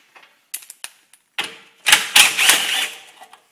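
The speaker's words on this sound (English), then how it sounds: "What we're going to do is remove the recoil starter housing." A tool works on the recoil starter housing bolts of a 5 hp Briggs and Stratton engine, with sharp, close metallic clicks followed by a louder burst of rattling, ratcheting noise.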